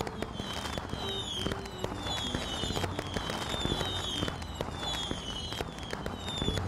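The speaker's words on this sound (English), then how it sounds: "Wow, those fireworks are pretty." Fireworks show with dense, continuous crackling and popping, sharp bursts and whistling streaks overlapping throughout, loud and close with no pauses.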